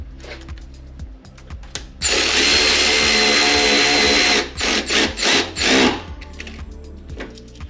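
A power drill runs a sustained whine, then a few short bursts, as it drives screws while installing Anzo headlights on a 2022+ Toyota Tundra, close and loud between quieter handling noises.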